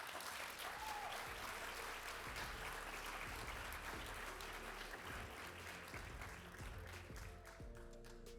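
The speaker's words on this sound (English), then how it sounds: "A big round of applause for the CEO of Health Catalyst, Dan Burton." Audience at a healthcare awards event applauding, a sustained, dense round of clapping from a large crowd, fairly even throughout, with a faint voice near the end.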